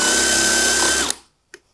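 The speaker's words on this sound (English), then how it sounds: "We need to drill a perfect hole. There's going to be no tear out. Watch what happens. We start drilling." A power drill whines steadily at high speed while boring a hole through wood, then spins down and stops, followed by a single short knock.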